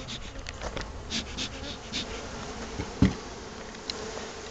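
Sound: honey bees buzzing at a beehive

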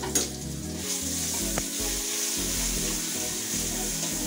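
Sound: ginger garlic paste sizzling frying in pan

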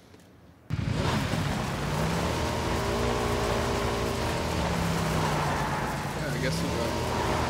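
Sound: motorbike engine in PUBG video game

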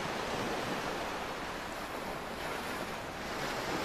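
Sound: ocean waves in the video game Real VR Fishing

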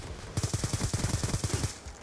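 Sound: gunfire in Black Ops 2 video game

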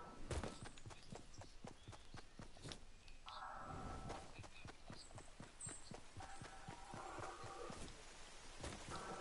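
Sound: thunderstorm with rain, the storm in a video game

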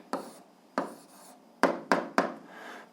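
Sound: writing down the answer

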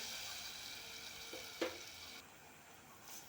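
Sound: hot water poured into sizzling tempering for pithla

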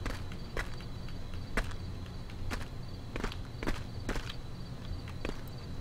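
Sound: a man's footsteps in the video game H1Z1

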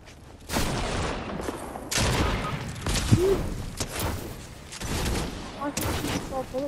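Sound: gunfire in the video game Fortnite

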